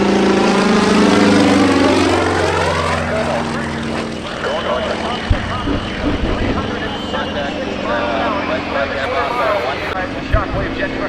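A Shockwave jet truck roars past at an airshow, a loud sustained jet whine with sweeping harmonics that swells then recedes into a lower rumble, with an announcer talking over it and brief sharp pops.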